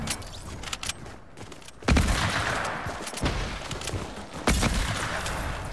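Dense video game gunfire crackles in rapid bursts, with heavier booming shots hitting around the second and fifth seconds, loud and continuous with no talking.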